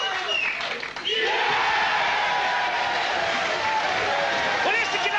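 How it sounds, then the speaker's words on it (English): A pool match crowd at the 1995 Mosconi Cup roars and cheers in a dense, sustained wall of noise with shouts and whoops, loud and continuous after a brief dip, while a commentator's voice rises over it. "Just listen to the crowd."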